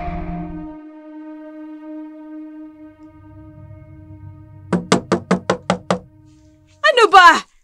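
Sharp knocking on a house door, a fast run of about six loud raps, after a sustained musical tone and before a voice bursts in.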